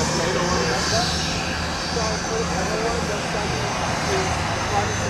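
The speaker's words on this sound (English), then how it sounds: "Another big jet on the move, or a big business jet." A business jet's engines whine and roar at McKinney National Airport, a steady loud drone throughout with voices faintly audible underneath.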